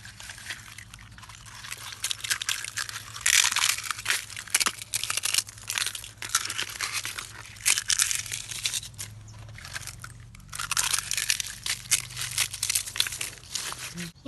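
Banana peels and eggshells are dropped and pressed onto a layer of soil for compost, giving repeated dry crinkling, crunching and rustling bursts close by with short pauses between.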